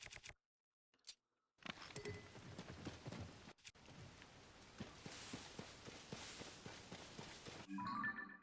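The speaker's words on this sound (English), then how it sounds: "Of course it's raining." Rain falls in Zelda: Tears of the Kingdom, a steady hiss of drops on the ground beginning after a brief near-silent opening with a couple of short ticks, joined by rhythmic footstep-like taps and continuing evenly to the end.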